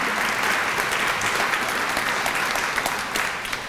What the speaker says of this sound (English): that probably deserves a round of applause.